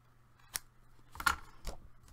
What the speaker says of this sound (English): I have a little piece that I need to trim off here.